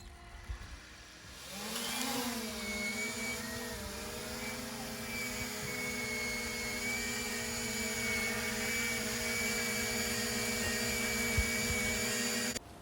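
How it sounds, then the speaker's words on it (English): Tiny motors of a small drone with dust in them, spinning up into a steady, close whirring drone with a faint harmonic whine that holds for about ten seconds. "it was still intact and could be flown. A bit of dust in those tiny motors, Christine, by the sound of it"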